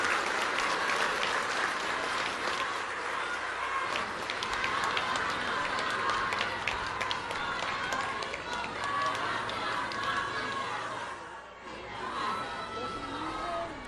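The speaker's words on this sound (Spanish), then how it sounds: "Un fuerte aplauso para nuestras autoridades." A large outdoor crowd at a government fertilizer-program event in Cuitzeo, Michoacán, gives the authorities a long, loud round of applause, a continuous dense clatter of many hands with crowd murmur, briefly dipping before resuming.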